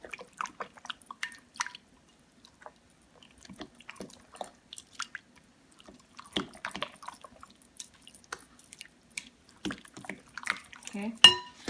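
Green bean casserole mixture with jalapenos is stirred in a bowl, giving sparse soft clinks, scrapes and wet squishes close up, with quiet gaps between.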